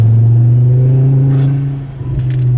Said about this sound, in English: The crazy noises coming out of that intake